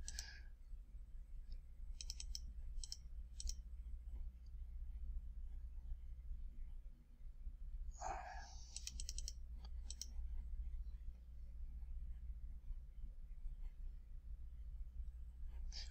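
A computer mouse in Shopify app settings gives a few soft, crisp clicks in small clusters, quiet and close, over a steady low hum with long pauses between them.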